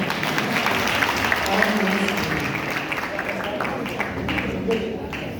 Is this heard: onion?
no